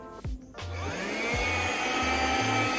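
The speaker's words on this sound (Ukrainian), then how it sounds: "а потім ось цим пилососом забираєте всю вологу, і у вас немає розводів" A Kärcher WV 2 Plus cordless window vacuum sucks moisture off a wiped window, a steady loud motor whine that rises and holds close to the microphone, with a few short handling knocks at the start.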